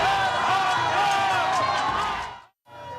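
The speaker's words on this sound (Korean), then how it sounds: "지지자들의 함성이 커집니다." Supporters gather outside a detention center and their cheering and shouting swell as presidential security vehicles arrive, a dense crowd roar that breaks off briefly near the end and then picks back up.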